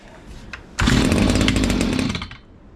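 A Stihl HS-45 hedge trimmer's small two-stroke engine sputters briefly, then catches and runs with a loud buzzing rasp for over a second before cutting off, heard up close.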